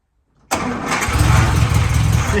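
An engine cranks and catches with the choke on after dashboard rewiring, starting abruptly and settling into a loud, close, rough running rumble.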